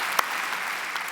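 Steady applause from an audience at a plenary conference session, an even wash of many hands clapping at moderate distance with a couple of sharper claps standing out.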